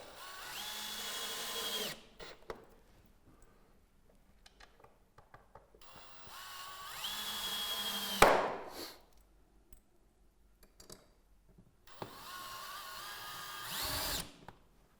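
Power drill driving screws into an aluminium roof window frame during a Velux Integra electric roof window install, three separate whirring bursts of about two seconds each, close and loud, with quiet handling noises between them.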